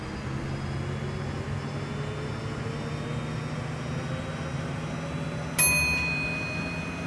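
A sharp bell-like ding in the bus game OMSI 2 rings out once near the end, its tone lingering and fading over a steady low engine drone.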